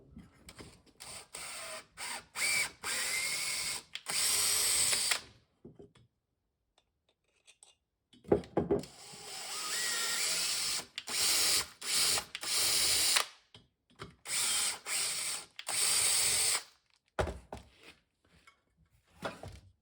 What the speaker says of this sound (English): Just to run a tap for this now and clean up the threads